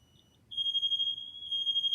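Interconnected ionization smoke alarm giving off a steady high-pitched electronic buzz that starts abruptly about half a second in and holds continuously and fairly loud, with faint low background rumble beneath.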